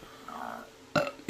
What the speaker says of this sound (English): there's going to be lots of burps in this video because I'm still getting rid of all the carrot gas